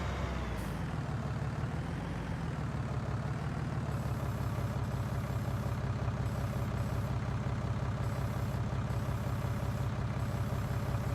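Steady, loud diesel drone of a tractor engine in Farming Simulator 19, a continuous low rumble holding throughout with a faint hissing layer on top and no talking.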